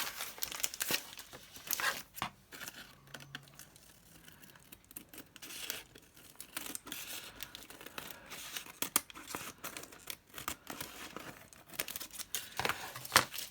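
Excess paper is trimmed off a digital-style scrapbook page: close crinkling, rustling and tearing-like cuts in irregular bursts, with sharp snips and shuffling paper throughout.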